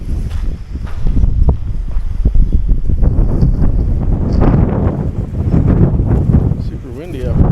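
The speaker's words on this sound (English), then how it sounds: "Super windy up." Heavy wind buffets the microphone at Barker Ranch with loud low rumbling gusts throughout, and a voice is faintly audible beneath the blustering noise.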